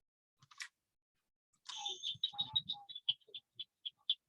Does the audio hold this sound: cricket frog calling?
yes